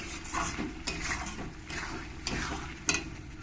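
Onions sautéing gently in oil for a South Indian fish curry, a soft continuous sizzle broken by light scraping and stirring clinks from a utensil in the pan.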